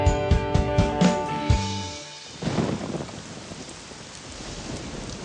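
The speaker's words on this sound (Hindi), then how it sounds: "उस रात बहुत तेज बारिश हुई। जितनी बार बिजली कड़कती" Rain pours steadily after a sustained tonal passage fades, then a low thunder rumble rolls in and the downpour continues alone.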